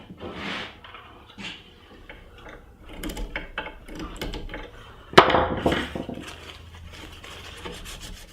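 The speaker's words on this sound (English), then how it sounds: "now I'm going to attach the lid and start to sand the top" Sanding the wooden top of a TV lift cabinet with the lid attached, a steady rasping rub that swells and fades in uneven strokes, with a louder burst partway through and no talking.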